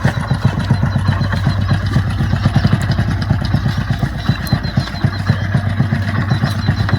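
A motorcycle engine idles with a steady, rapid low thump, close and loud throughout with no break.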